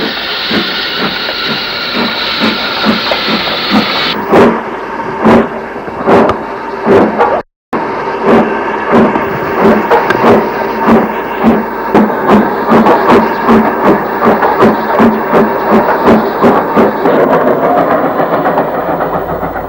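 A Denby-bound train on the Mold to Ruthin line, loud and close, with hissing at first, then steady rhythmic chuffing and rail clatter that carries on through a brief dropout.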